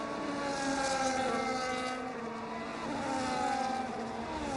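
Several racing cars roar off at the start of a Las Vegas race in a sim racing game, engines loud and layered and climbing in pitch together through repeated gear changes.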